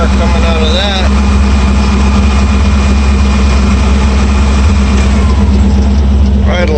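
Engine of a 1960 Ford F100 pickup, carburetor freshly rebuilt, idling too high with a steady low rumble and constant drone; brief talk at the start and again near the end.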